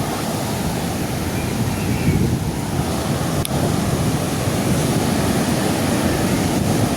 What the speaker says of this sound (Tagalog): Kaya medyo may laki ang alon ngayon